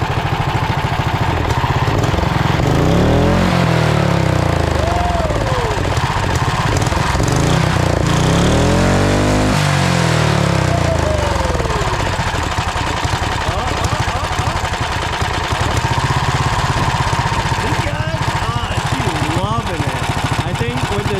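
A go-kart with a big turbo fitted to a 420cc engine revs loud and close, engine pitch sweeping up and down in repeated swells over a constant droning roar, with someone talking through parts of it.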